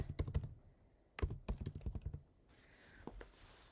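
Fingers tap crisply on a computer keyboard in two quick bursts of keystrokes separated by a short pause, close and clear, followed by a faint whir and a few soft clicks.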